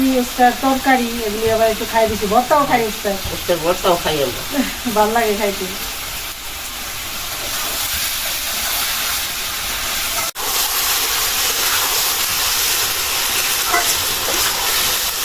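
Sarpunti fish curry with tomato sautéed in hot oil sizzles in a steady, close hiss; a voice talks over the first few seconds before the frying carries on alone.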